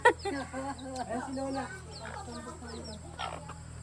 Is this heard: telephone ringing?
no